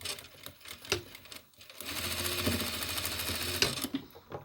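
Sewing machine stitching seams on a cosmetic bag: close, steady rapid mechanical whirring in bursts, with brief pauses and light handling of fabric between runs.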